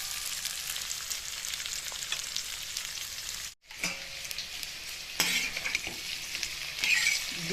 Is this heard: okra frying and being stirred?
yes